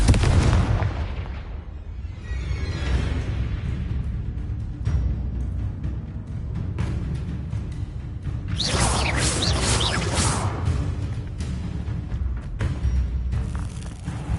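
Loud, continuous blasting from Confringo spell explosions in Hogwarts Legacy, with repeated booming bursts and crackling debris running together throughout, with no pauses.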